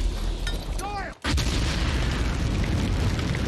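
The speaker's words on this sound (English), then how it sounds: "Oh, flamethrower." A flamethrower fires during a Saving Private Ryan battle scene, a loud roaring whoosh of burning spray following a brief drop in sound, heavy and continuous behind faint combat noise.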